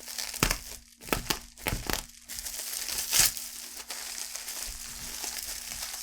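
Packaging tape on a board game box being cut and pulled open, sharp irregular crinkling and ripping bursts up close, then a steadier rustle of plastic and cardboard.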